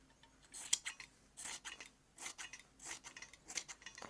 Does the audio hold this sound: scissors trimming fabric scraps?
yes